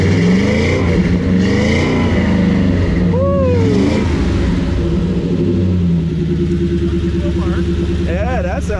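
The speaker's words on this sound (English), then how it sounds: "That's a good Ford sound right there." A 1933 Ford hot rod engine revs loudly up close, its throaty rumble rising and falling through several blips, while voices talk over it.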